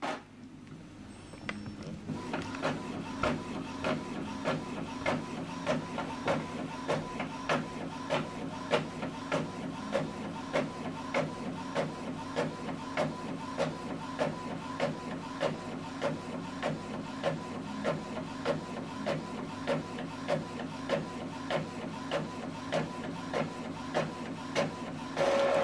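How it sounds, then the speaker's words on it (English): An Epson printer runs a colored double-sided print job, giving a steady mechanical whir punctuated by regular rhythmic clicks and shuffling feed strokes. It sounds close and continuous, with no talk. "we are printing this colored two-sided. Okay, so it's going back in."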